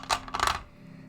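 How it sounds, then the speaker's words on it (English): Smoky black and dark blue dice clatter briefly on a hard surface in two quick bursts of rattling clicks, close and fairly loud, then fall silent. "Dice sounds to chill, study, and zone out"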